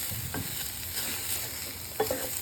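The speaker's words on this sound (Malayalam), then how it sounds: "ഇനി ഇതെല്ലാം നന്നായിട്ട് ഇളക്കി 1 മിനിറ്റ് അടച്ചു വെച്ച്" A spatula stirs snake gourd thoran in a frying pan over a steady background sizzle, with a couple of brief scraping strokes, no speech.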